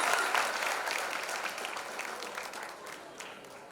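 Audience at a launch event greets actress Neha Sharma with loud applause and cheers, a dense burst of clapping that slowly tapers off over a few seconds.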